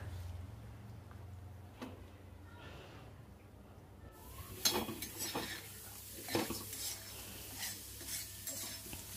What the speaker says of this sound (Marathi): मसाला तयार करायचा, त्यासाठी आपण कांदा छान भाजून घ्यायचा आहे